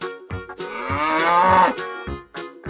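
A cartoon cow moos in a kids' animal painting game, a single loud drawn-out moo rising and falling, framed by short bouncy musical notes before and after.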